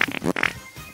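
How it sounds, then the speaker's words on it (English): A cartoonish fart sound effect from a Gen Z trivia party game plays as a couple of quick, loud, sputtering bursts, heard alone in a short moment. "And here's another fart noise."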